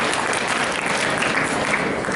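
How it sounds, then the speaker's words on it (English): A crowd applauds at a hypnosis talk during a psychic expo, producing a thick, continuous roar of clapping that stays loud and even throughout. "Can I get a round of applause for sadness right there?"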